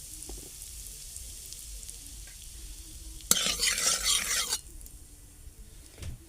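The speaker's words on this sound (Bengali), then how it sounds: "এবারে আমি তেলের উপরে দিয়ে দেবো সামান্য হিং।" A pinch of asafoetida hits hot mustard oil in a pan with a sudden, bright sizzle that lasts just over a second, then drops back to a quiet low kitchen background.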